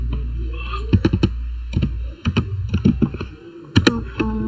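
Clicky computer keyboard typing a search for Google Fonts, a few separate key strikes and short bursts over a steady low background hum, fairly close.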